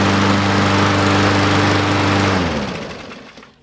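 A Briggs & Stratton E-Series 4.50 HP engine on a Murray lawn mower with a carburetor problem runs loud and steady close by, then winds down and dies out after about two and a half seconds.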